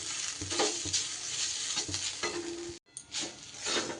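Bitter gourd mixture with chopped coriander stirred in a hot pan makes a soft, steady sizzle broken by repeated scraping strokes, with a brief silent gap near the end.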